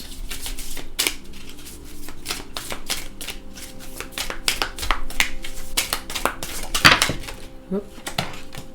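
Tarot cards being shuffled and riffled, producing a quick run of crisp slapping clicks close by, with a few brief spoken moments mixed in.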